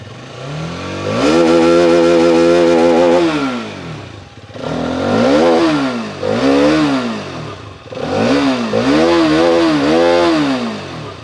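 A Hero Karizma XMR 210 or KTM RC 200 motorcycle engine revs hard three times, each burst rising and falling in pitch, loud and close with brief idling gaps between.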